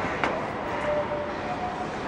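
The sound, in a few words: Bangkok BTS SkyTrain arriving at station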